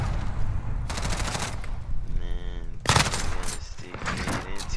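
Rapid automatic gunfire in a Call of Duty Hardpoint match, sustained bursts of shots through most of the stretch, mixed with game sounds and faint voices.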